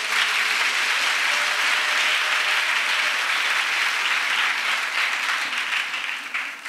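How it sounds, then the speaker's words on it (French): Sustained applause acclaiming Jesus Christ at a singles' retreat gathering, a broad, steady wash of clapping from a crowd that holds for several seconds and thins slightly at the close. "Acclamation à Jésus-Christ"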